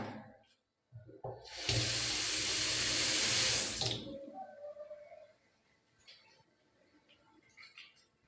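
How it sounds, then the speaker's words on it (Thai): A strong burst of water gushes from a kitchen tap over a sink set in a black countertop for about two seconds, loud and close, then cuts off, leaving quiet room noise. "น้ำที่นี่แรงมาก"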